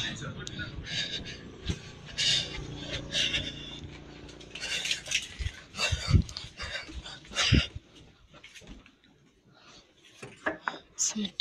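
A dog whimpers and yips in Fallout 3, making scattered short high cries and a few sharp barks at close range amid game ambience, with a voice talking over parts of it.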